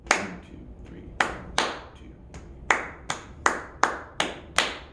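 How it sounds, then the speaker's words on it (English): Solo hand claps tapping out the rhythm of Mozart's Eine Kleine Nachtmusik: about a dozen crisp, close claps in an uneven pattern, some spaced out and others in quick pairs, in a quiet room. "let's try clapping that rhythm. I'll clap it first"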